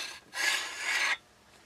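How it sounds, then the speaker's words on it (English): The bolt assembly slides out of a Pivot folding 9mm rifle with a single close metallic rasp lasting under a second, then quiet. "Next, we're just going to pull the bolt assembly right out."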